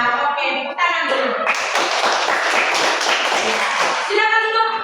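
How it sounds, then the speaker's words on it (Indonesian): A class of schoolchildren clapping their hands together after singing a song, a short burst of dense claps rising in the middle, with children's voices heard before and after. "Oke, tepuk tangan dulu"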